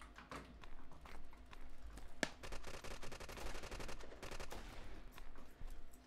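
Gunfire in the online shooter War Trigger 2 (Red Crucible Reloaded): rapid automatic bursts and scattered shots crackle steadily for about six seconds against a busy in-game background, with one sharper close report partway through and no talk.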